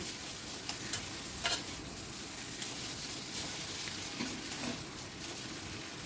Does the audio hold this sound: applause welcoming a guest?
no